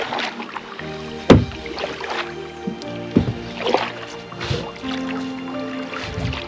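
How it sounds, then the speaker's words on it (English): A canoe is paddled on a lake in Algonquin. Close, irregular strokes, water drips and sloshes, and occasional knocks against the hull repeat throughout with no talking. "I'm paddling for almost 4 hours"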